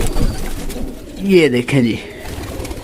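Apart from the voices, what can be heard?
Sialkoti pigeon cooing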